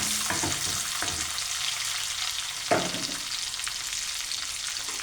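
Two dried red chillies and a few curry leaves splutter in a hot pan, a loud continuous frying hiss with scattered crackles and one sharper pop midway, no speech.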